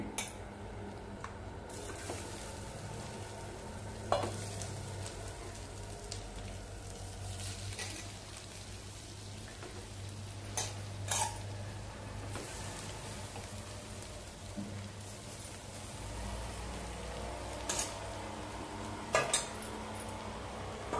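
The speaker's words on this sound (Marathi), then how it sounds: "आता हे सारं मिश्रण आपल्याला बारीक गॅसवरती छान परतवून घ्यायचंय" Aliv seeds, grated fresh coconut and jaggery stirred together in a pan over low heat, a soft steady sizzle with scattered scraping clinks of the spoon against the pan throughout.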